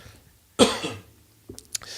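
A single sharp, throaty cough bursts out, followed by quieter breathy sounds and a faint click or two.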